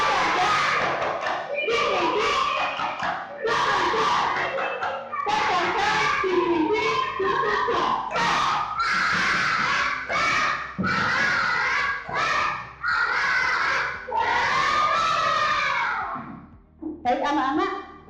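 A class of schoolchildren chant loudly together in unison, punctuated by rhythmic group clapping, filling a classroom with energetic voices.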